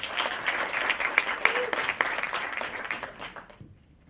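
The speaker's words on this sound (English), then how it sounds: "please give a big clap for Igal Pines" An audience at a presentation claps to welcome a speaker, a lively burst of many hands with some sharper individual claps, tapering off and stopping after about three and a half seconds.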